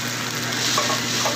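Cold leftover rice sizzles and crackles as it fries in a pan for fried rice with aligue: a brief, loud, steady hiss without talking.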